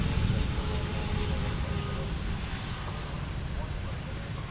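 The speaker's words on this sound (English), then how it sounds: "I heard the engines and I was like, that sounds heavy" An Emirates Boeing 777 taxis at DFW Airport, its jet engines giving a steady, heavy low roar with broadband rush and wind noise throughout.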